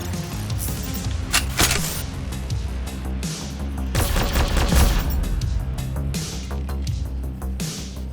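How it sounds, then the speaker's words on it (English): A heavy autocannon fires in the Mainframe Defenders video game, giving loud, rapid bursts of shots and booming impacts over a low rumbling backdrop across the whole stretch. "I think you can kill the MK Centaurion with the heavy autocannon."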